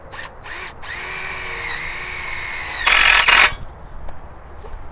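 A handheld power drill whirs up and bores a hole during assembly of a movable high tunnel, its rising whine followed by a brief louder grinding burst as the bit bites in, close and alone.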